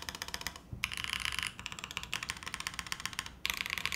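Rapid typing on a Neo80 mechanical tenkeyless keyboard, with the left shift key in the mix: a dense, steady stream of close, crisp key clacks and thocks for the whole stretch, no voices.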